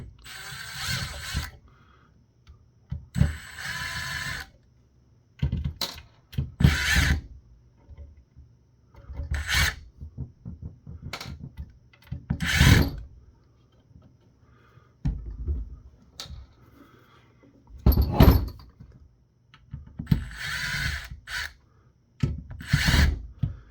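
Bursts from an electric screwdriver removing T10 Torx screws from a Sabine True Mobility SW71-R wireless mic receiver, a dozen or so short whirring runs separated by quiet gaps and small handling clicks, close up.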